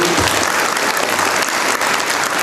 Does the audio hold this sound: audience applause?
yes